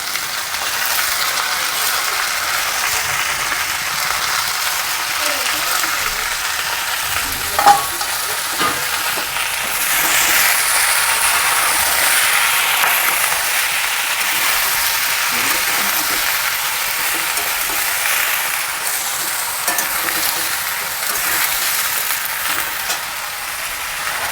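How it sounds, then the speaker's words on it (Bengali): Onion flowers, flat beans and potatoes fry in a pan with a steady, fairly loud sizzle that lasts throughout. A few clicks and scrapes from stirring come through, with one sharper knock partway in. "এবার আমি দিয়ে দেব পেঁয়াজ কলি আর সিম। এটাকেও আমি ভেজে নেব।"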